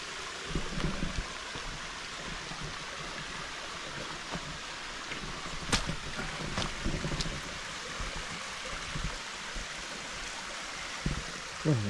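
A stream flows steadily over rocks on a hiking trail in Parque de Minas, a soft constant trickle and wash with a few brief knocks and rustles, fairly quiet and near.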